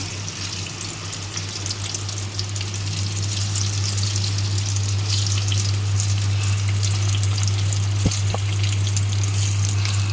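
Soybean chunks fry in white cooking oil in a pan, giving a steady, loud sizzle and crackle throughout with a low continuous hum beneath. Brief pops sound near the end.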